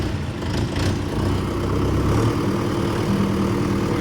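A large tractor's engine runs nearby, giving a steady low, throbbing rumble with a faint mechanical rattle and no break in its drone.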